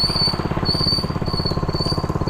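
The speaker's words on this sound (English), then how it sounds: "Brakes are a little bit noisy," A steady high-pitched squeal from the painted brake drum of a restored 1970 MTD minibike rings out repeatedly over a rhythmic, pulsing mechanical rumble of its small running engine.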